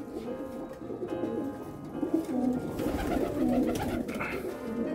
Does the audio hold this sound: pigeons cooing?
yes